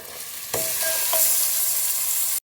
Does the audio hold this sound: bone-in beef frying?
yes